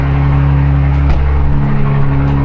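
A car engine roars loudly and steadily at close range just after starting, with a sharp jolt partway through and a shift in its low rumble, without speech.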